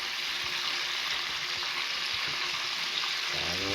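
Carrot pieces hit a hot pot where chicken, tomato and oil are already sizzling, giving a steady bright frying hiss with light stirring, close up and without speech.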